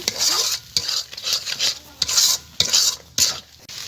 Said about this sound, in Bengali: এবার মশলাগুলোকে আমি ভালো করে কষিয়ে নেব